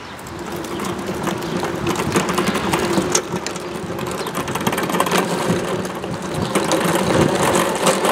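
Electric motors of an RC Hetzer tank whir and grind at low throttle, a continuous close mechanical buzz with gear chatter that swells slightly toward the end.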